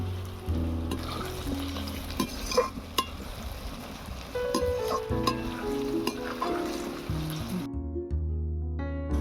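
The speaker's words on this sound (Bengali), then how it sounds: "এবারে বেরেস্তা ভেজে নেব" Sliced onions fry for birista for a chicken biryani, a loud, steady close-up sizzle with scattered clinks and stirring scrapes that drops away near the end.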